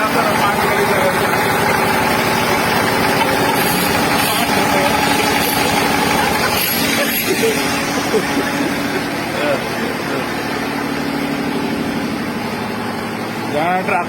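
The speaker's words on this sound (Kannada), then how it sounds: "ಜನರೇಟರ್ ಹಾಕೊಂಡು ಕೆಲಸ ಮಾಡ್ತಾ ಇದ್ದೀವಿ." A generator engine runs steadily at a house construction site during wall groove cutting and chipping for wiring, a loud constant droning hum throughout, with people talking over it.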